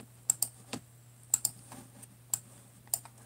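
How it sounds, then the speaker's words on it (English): Keystrokes on a computer keyboard typing a single word, about eight quiet clicks in small clusters over a steady low hum, close and fairly faint. "I'll type a word."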